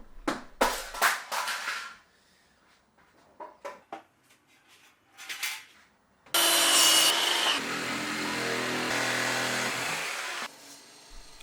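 Wood cut by hand with a saw for an axe handle: several rhythmic rasping strokes in bursts, then a harsher, louder continuous grinding stretch near the end, close and without talk.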